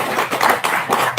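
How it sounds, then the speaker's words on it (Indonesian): Audience of listeners clapping together at a talk, a short burst of dense, close applause with rapid overlapping hand claps. "Tepuk tangan dong."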